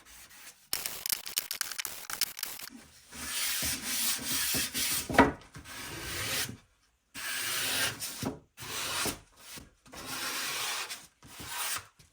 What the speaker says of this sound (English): I sanded to smooth the surface a bit